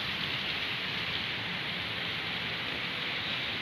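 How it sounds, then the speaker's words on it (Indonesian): Heavy rain pours down steadily around Gelora Bung Karno main stadium, a dense, even hiss with no pauses and no voices. "Ini memang hujan deras banget ini."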